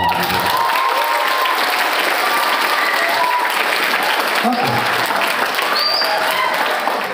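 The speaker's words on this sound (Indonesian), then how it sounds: "Tepuk tangan untuk kita semua." Steady, loud applause from an audience at a Ramadan welcoming event in a school hall, sustained clapping filling the whole stretch without pause.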